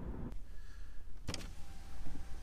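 Car power window motor whirring faintly as the glass lowers, a short electric hum with a couple of thumps and clicks, quiet and close inside the cabin.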